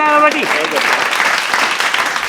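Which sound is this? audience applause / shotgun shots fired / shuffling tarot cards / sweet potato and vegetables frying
audience applause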